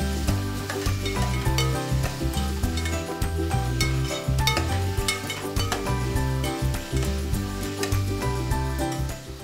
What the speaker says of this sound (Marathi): हे आता व्यवस्थित आपण मिक्स करून घेणार आहोत। व्यवस्थित हलवून घ्यायचं आहे।